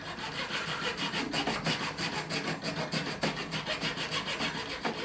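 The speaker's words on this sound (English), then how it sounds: "we're going to cut through the nut down the middle, hopefully not sawing through the neck" Close, rhythmic back-and-forth strokes of a small saw cutting down the middle of the nut on a Gibson Les Paul Junior guitar, steady rasping passes with no talk.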